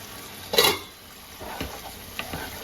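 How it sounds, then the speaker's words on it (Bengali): Spice masala for egg masala khichuri being sautéed in a pan, with a sharp clatter of utensil against the pan followed by quieter scraping stirs and faint sizzling. "মশলাটা ঢাকা দিয়ে দু তিন মিনিট কষিয়ে নেব"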